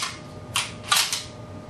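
A few sharp metallic clicks and clacks sound close by as a shotgun is handled and reloaded during dry practice, with three quick bursts spaced within under two seconds.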